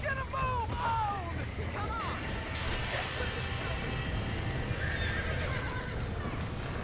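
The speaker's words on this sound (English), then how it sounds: "Now get the horses out!" Horses in the video game Red Dead Redemption whinny loudly several times over a dense, busy background of hoofbeats and commotion, while voices talk and shout throughout.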